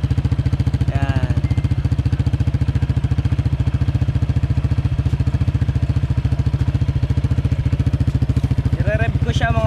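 A Honda PCX scooter fitted with a V-Lane muffler and silencer idles steadily and close by, its engine note continuous with slight rev swells, while a person talks briefly over it.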